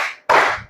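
A group of schoolchildren claps together in a classroom, one brief loud burst of hands coming in sharply after a fading earlier clap.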